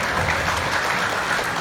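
A seminar audience claps loudly and steadily, with many hands close together in a continuous burst that does not let up for the whole moment.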